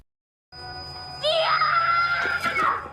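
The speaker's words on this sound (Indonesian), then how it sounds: "Dan seketika Didi menjerit karena telinganya terasa panas." A child in a dramatic film scene lets out a sudden, loud, shrill scream that rises and holds for about two seconds over a faint steady background tone.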